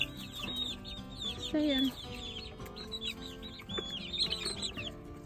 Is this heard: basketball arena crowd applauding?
no